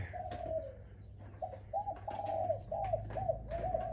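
A wild dove sounds a soft low coo, then a run of several rhythmic cooing phrases, close and clear over a faint background hum.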